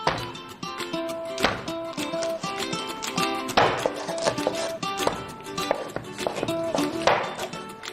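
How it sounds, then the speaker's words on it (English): Repeated knife chops through chicken thighs on a cutting board, irregular sharp impacts spread across the whole stretch, close and fairly loud against a faint harmonic background. "For the thigh, we are going to chop into 4."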